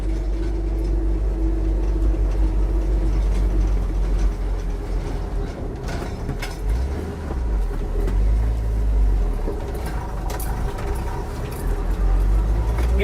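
A 1967 Ford F-100 service truck with a manual clutch climbing a grade, its engine droning loud and steady with low rumbling surges as revs shift, road and wind noise throughout.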